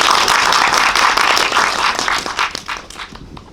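An audience at a film screening talk applauds loudly as the directors are introduced, dense, continuous clapping that gradually thins out and fades toward the end.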